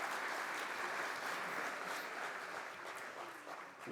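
Applause from a lecture audience at a geotechnical conference award ceremony, a continuous wash of many hands clapping that fades slightly toward the end, moderately distant and even, with no voices.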